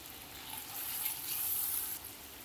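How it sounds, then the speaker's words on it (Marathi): Onion and tomato with a little salt frying in a pan make a soft, faint sizzle that swells for a second or so and then settles back down. "छान फ्राय करून घेऊया आपण"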